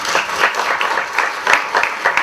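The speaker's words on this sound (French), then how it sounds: "J'allais dire que c'est les jeunes qui applaudissent" Crowd applauding at a political rally, a steady, dense wash of many hands clapping at mid distance, with brief swells and no voices on top.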